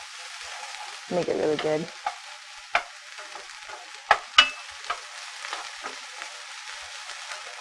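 Green peppers and spices sizzling steadily in a hot pan with black beans, with scraping stirs and sharp utensil knocks over the constant frying hiss, while a person speaks briefly.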